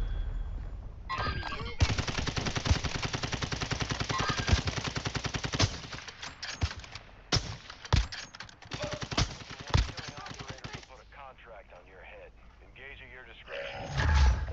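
Gunfire in the Call of Duty DMZ video game, dense rapid automatic bursts that run steadily for several seconds and then break into scattered shots, fairly loud, with players talking over the firing.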